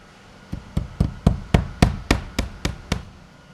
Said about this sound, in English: We'll use this same nailing pattern for the remainder of the wall.